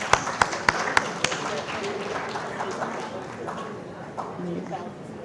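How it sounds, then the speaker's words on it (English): An audience at an anniversary fundraising event applauds a donation with a burst of sharp claps at first, then scattered clapping and crowd murmur that fades over a few seconds. "Can we clap for them, please?"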